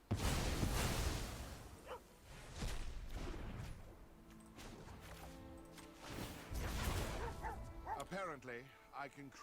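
A dog barks and yips in the MTG Arena card game, several sharp bursts spread across the stretch, mixed with game effects and someone talking.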